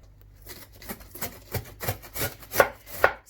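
A sharp knife chops through cabbage on a cutting board, about ten crunchy strokes in an uneven rhythm, close and clear with no talking.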